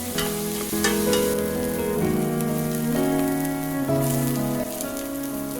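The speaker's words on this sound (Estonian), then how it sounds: "Supipoti põhja läheb pisut oliiviõli ja praan kergelt läbi sibula, küüslaugu ja ingveriga" Onion, garlic and ginger sauté in olive oil at the bottom of a soup pot for carrot ginger soup, a steady close sizzle with soft stirring over a sustained tonal background.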